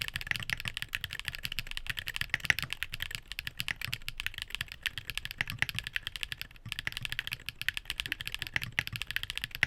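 TTC Hall effect mechanical keyboard switches typed on continuously, a dense run of quick, close clacks at a fairly even pace with no voices.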